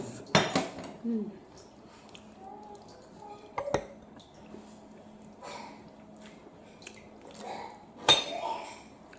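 A spoon clinks and scrapes against dishes during a meal, with scattered sharp metallic taps and softer scraping noises at close range, and a quiet murmur of voices in between.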